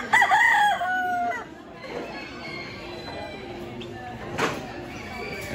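Roosters crowing at a spring poultry fanciers show among speckled Sussex and other breed birds, one loud near crow at the start followed by more distant crowing, clucking and hall noise, with faint voices around.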